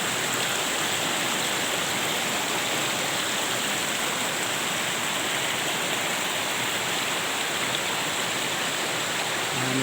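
Water flows in a constant loud rush, a dense unbroken hiss like a stream or small waterfall close by, with no voices over it.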